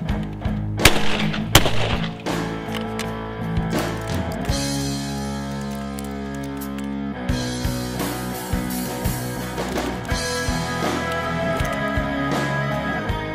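A 20 gauge shotgun firing reloaded Winchester Super Target shells, 5/8 ounce of shot in a 7/8 ounce wad, with a few sharp, loud outdoor blasts early on, then softer clatter and handling noise under background music.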